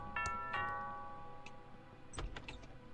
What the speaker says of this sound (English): That sounds like the doorbell.